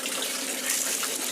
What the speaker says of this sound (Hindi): ये पानी है, ये बहुत शिफा पानी है और साफ